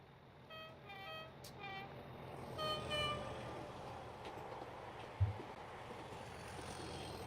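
A diesel locomotive in the Train Simulator game rumbles steadily, with several short horn toots near the start and a brief thump later on. The sound is moderately quiet throughout.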